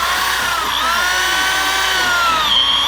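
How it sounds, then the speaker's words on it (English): A power drill runs continuously at a steady, loud whine during barndominium construction, the motor's pitch sliding slightly up and down throughout with no speech over it. "that drill seems to be working a little better"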